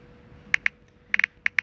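Computer keyboard keys clicked in quick, irregular bursts, about seven crisp close taps over a quiet background.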